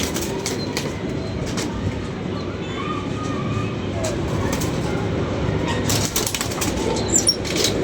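Racing pigeons from a loft take off with a fluttering rush of wing flaps, a continuous close noisy whir with scattered sharp claps across the whole stretch, and faint voices in the background.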